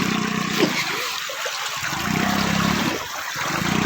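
Cold stream water rushes and splashes steadily as people wade across at Marilaque Camp, a campsite in Tanay, Rizal, with a continuous close wash of flowing water throughout.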